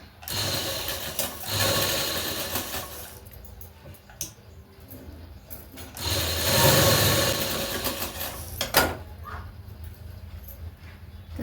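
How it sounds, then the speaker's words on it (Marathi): A sewing machine stitches a blouse with a busy, rapid mechanical whir in two long runs separated by a pause, and a dog's faint whimpers and yips mix in nearby. "चला हा ब्लाउज शिवून घेते पटपट"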